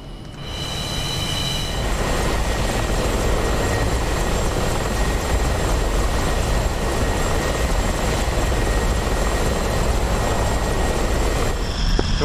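A MiG-29's powerful jet engines roar in the DCS flight simulator, a steady, dense broadband rumble with a whining tone on top that holds loud and unbroken throughout.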